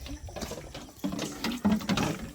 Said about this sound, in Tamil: தண்ணி ஊற்றிட்டியா?